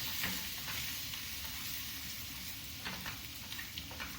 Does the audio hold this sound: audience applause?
no